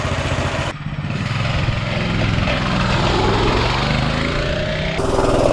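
A minibike running on camp stove fuel revs up hard, its small engine buzzing loud and close with a rattling, rising drone that dips briefly and then climbs again as it accelerates.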